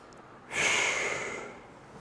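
One deep breath is blown out hard, a breathy rush that swells quickly, holds for about a second and then fades, close and alone with no voice over it.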